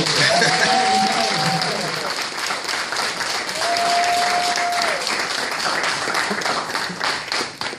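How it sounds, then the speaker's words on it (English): An audience at a school-district luncheon applauding a council member's guest: dense, sustained clapping from a roomful of people for about eight seconds, with two brief high whistle-like tones rising over it. "let's give him a large round of applause."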